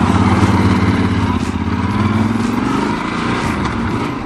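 A Yamaha XT 1200 Super Tenere being ridden gives a loud, steady engine drone with constant wind rush, holding without a break.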